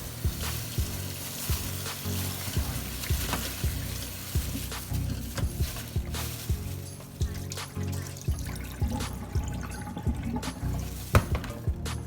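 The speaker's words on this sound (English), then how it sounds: "I'm gonna wash it in cold water." About 2.5 pounds of ground meat for lasagna is rinsed under cold running water in a kitchen, with a steady trickle and splashing and occasional knocks and handling sounds throughout.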